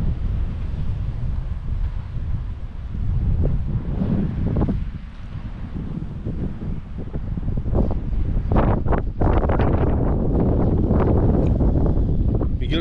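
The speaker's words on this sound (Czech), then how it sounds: "Akorát jediný co, tak fouká vítr, ale pohoda." Wind blows on a beach in Aqaba, Jordan, causing steady buffeting rumble and microphone wind noise throughout, with gusts strengthening toward the end and possible faint surf underneath.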